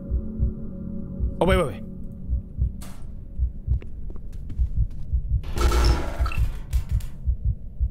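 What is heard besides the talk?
heartbeat sound in a Roblox horror game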